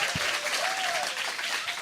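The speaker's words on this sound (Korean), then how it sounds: "여러분 감사의 박수 한번 보내주세요." Audience applause at a Korean talk show, a thick, even patter of many hands lasting about two seconds, with a faint whistle-like tone briefly gliding through.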